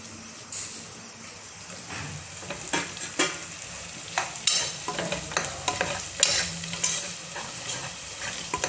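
Masala spices frying in hot oil in a pressure cooker for vegetable rice, with a steady sizzle broken by repeated scraping clicks of a spoon stirring against the pot, close and moderately loud.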